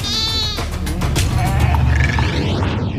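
Red Maasai sheep bleat loudly and close, with overlapping wavering calls from several animals over a noisy outdoor background.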